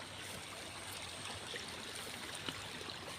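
Irrigation water runs steadily through a rice paddy, a soft continuous trickle and stream with faint splashes, fairly quiet and with no voices.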